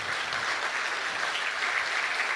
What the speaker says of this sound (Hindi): अच्छी बात पर अच्छी तालियां बजनी चाहिए ताकि मंच अच्छी बात कह सके।